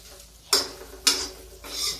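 A spoon stirs bitter gourd curry sweetened with jaggery as it roasts in a pan, giving three short scraping strokes at roughly half-second intervals, close and moderately quiet.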